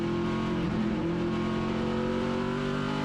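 Stock cars race on a 4/10 mile oval at night, a continuous loud roar of several engines holding steady with a brief rising pitch change, no voices.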